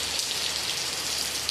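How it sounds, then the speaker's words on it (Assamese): Morning rain in Guwahati pours down in a constant, close hiss of drops striking surfaces, unbroken and free of speech. "ৰাতিপুৱা ৰাতিপুৱা বৰষুণ দিছে"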